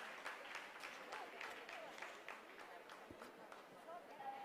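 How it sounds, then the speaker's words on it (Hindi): Scientists clap in a mission control room during the Chandrayaan-3 lunar landing, scattered hand claps running steadily under a narrator's voice. "आप इस तालियों के गड़गड़ाहट को सुन सकते हैं"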